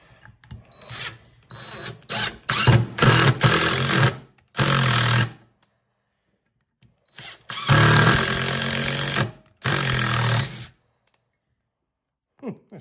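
A Temu power drill drives a bit into pilot holes in walnut wood in loud, grinding bursts of a few seconds each, separated by pauses, with brief quiet between runs.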